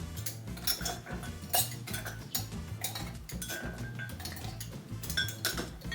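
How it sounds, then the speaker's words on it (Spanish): Ice cubes go into a metal cocktail shaker for a Jungle Bird drink. Many loud, close, irregular clinks and rattles of ice on metal run throughout. "Cogemos nuestra costelera y la llenamos de hielo en cubo."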